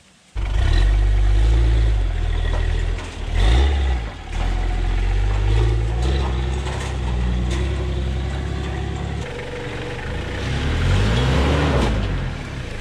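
An off-road 4x4 engine revs loud and close as the vehicle crawls over rocks, its sustained rumble rising and dipping with throttle changes.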